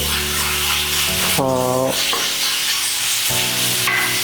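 A paste of small onions, garlic and ginger sautés in a pan for Malabar chicken curry, giving a steady close hiss and stirring rub, with sustained tonal sounds rising in the background.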